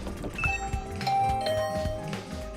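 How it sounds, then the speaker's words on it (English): A video game doorbell in The Hundred Line: Last Defense Academy rings out a short chime of a few bright tones over soft background music, with no speech. "I rang the doorbell to Tsubasa's room."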